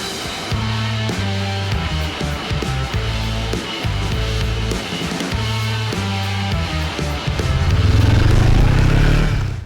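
A large-capacity retro classic motorcycle is ridden, its engine pulsing in a steady loud throb with rhythmic on-off surges as the throttle opens and closes, rising to a stronger drone near the end, with no voices.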